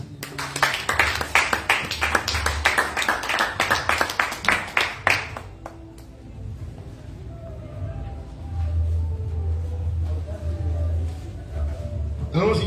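A church congregation claps during a French-language sermon, a steady run of sharp, rhythmic claps for several seconds before fading into quieter room sound with a speaking voice.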